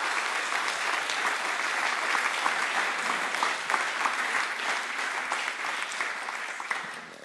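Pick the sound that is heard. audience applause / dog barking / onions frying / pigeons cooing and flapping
audience applause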